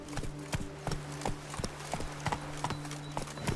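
Hooves of the horse Roach clip-clopping at a steady pace in The Witcher 3, the beats close, regular and evenly spaced with no talk.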